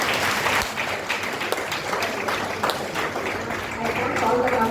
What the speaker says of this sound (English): Can we conclude this program by giving a clap again?